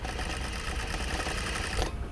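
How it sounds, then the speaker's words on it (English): Close, fast rhythmic whirring of a sewing machine back stitching a permanent basting line on a zipper, a steady mechanical patter that runs without pause and then cuts off. "I'm back stitching because this is permanent basting"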